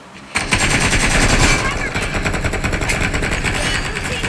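Rapid gunfire in a video game, a dense burst of loud repeated shots right up close that continue steadily for about four seconds after a brief quiet start.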